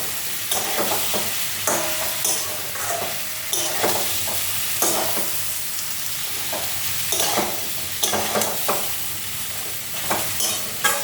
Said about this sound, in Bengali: এই যে লঙ্কাগুলো এরকম ভাজা ভাজা হয়েছে না